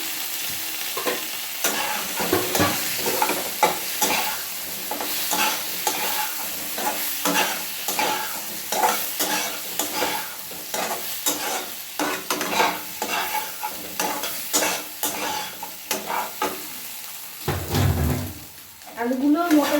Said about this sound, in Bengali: আলুগুলো মোটামুটি ফ্রাই হয়ে গেছে